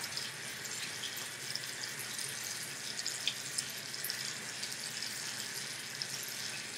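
Hands washed under a running tap, a steady hissing stream of water with small splashes and drips, moderately quiet and continuous, no talking.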